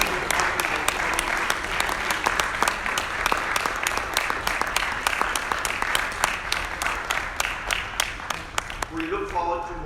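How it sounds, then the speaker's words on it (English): An audience applauds a team on stage, sustained steady clapping for about ten seconds, loud and continuous, with a few voices near the end. "Kushbu, Asfalyar, Quram, Hassan Mahmood, please give them a round of applause."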